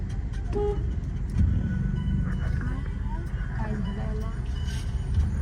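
Road traffic heard from inside a car in slow-moving traffic, a steady low rumble of engines with occasional faint horn toots, and people talking over it.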